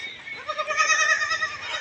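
Goats on a semi-enclosed goat farm give a single drawn-out, quavering bleat, close and clear against a quiet background.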